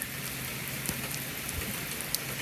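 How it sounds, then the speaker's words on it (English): Rain falls steadily on a lawn, a soft constant patter and hiss with occasional louder drops striking nearby, heard alone without voices. "So we have some glorious rain coming down."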